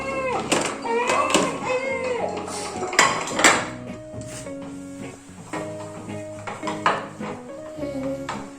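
Plates and dishes clatter and clink repeatedly in a home kitchen as a meal of parotta and chicken curry is set out, the clattering close and continuous under a voice talking.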